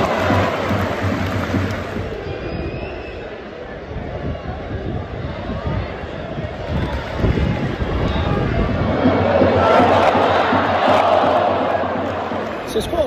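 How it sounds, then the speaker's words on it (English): Charlton fans fill a football stadium with a broad, continuous crowd roar, with booing swelling toward the end, and a drum from the top tier thumping faintly in the mix. "there's quite a lot of booing here from Charlton fans"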